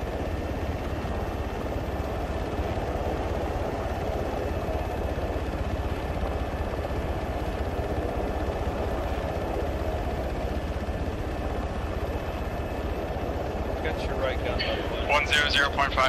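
Military helicopters fly in during a jungle special-operations mission in a military video game, a loud, steady rotor and engine drone filling the scene throughout, with brief radio chatter near the end.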